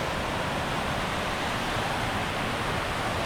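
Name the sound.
waterfall at Silwane Nature Reserve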